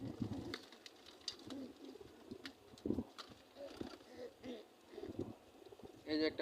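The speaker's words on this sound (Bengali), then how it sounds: "এই যে একটা মাদি কবুতর।" A female pigeon in a pigeon house gives soft, low coos over several seconds, quiet and close, with people talking over the calls.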